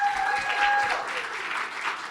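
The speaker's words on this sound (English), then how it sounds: "Give them a big round of applause." An audience at a library show applauds volunteers with a steady burst of clapping that continues throughout, and a faint voice is heard over it.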